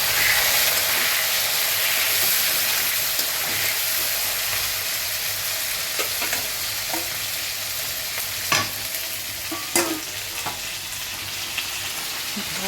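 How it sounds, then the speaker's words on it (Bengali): Prawns frying in a hot pan, a steady bright sizzle with occasional stirring clicks and scrapes, close and continuous with no talk. "চিংড়ি মাছগুলো এবার দিয়ে দিলাম না।"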